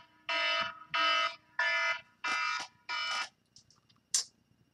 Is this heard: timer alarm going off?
yes